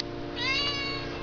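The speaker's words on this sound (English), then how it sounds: "That's why he meows like that all the time, because he's addicted to catnip." A domestic cat gives a single drawn-out meow, close by and clear over a low steady background hum, with no voices.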